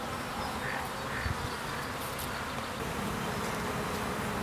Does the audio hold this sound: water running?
no